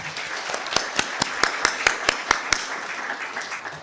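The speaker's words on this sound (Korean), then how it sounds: "훌륭한 발표와 토론을 해주신 발표자와 토론자분들께 뜨거운 박수 부탁드립니다" An audience applauds at a 2022 judicial policy symposium in a Korean conference hall, with steady, evenly spaced claps standing out over a softer wash of clapping that fades after a few seconds.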